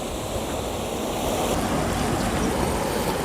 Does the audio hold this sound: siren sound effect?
no